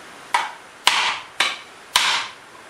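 A hammer strikes sheet metal on a wooden shrinking stump to form a tuck, with four sharp, close blows about half a second apart, each ringing briefly before fading.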